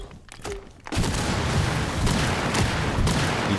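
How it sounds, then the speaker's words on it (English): Continuous rumbling blasts and crackling booms in Rainbow Six Siege fill the scene after a quiet start, with sharper bursts recurring, like explosions going off in a game. "Explosions going off."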